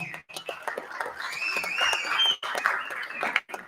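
An audience at a festival closing ceremony claps for an award, the scattered, moderately loud applause mixed with murmuring voices and a few short pauses.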